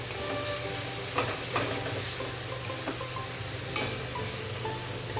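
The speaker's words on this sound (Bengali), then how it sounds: "টমেটোটাও ভালো করে নাড়াচাড়া করে নেবো" Chopped tomatoes stirred through masala frying on a lowered gas flame for an egg curry, a steady close sizzle with occasional spatula scrapes and one sharp clink near the end.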